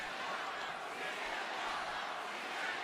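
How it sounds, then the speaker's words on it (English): Arena crowd at a WWE Elimination Chamber wrestling event rallying against CM Punk, a steady, dense wash of cheering and chanting voices that holds at an even level throughout with no single voice standing out. "Crowd trying to rally against Punk"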